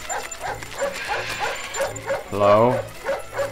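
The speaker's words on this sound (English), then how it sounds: "Dog!" Dog barks and yips in the Up video game, a few short woofs and a whimpering whine over busy game audio, with a player talking over it.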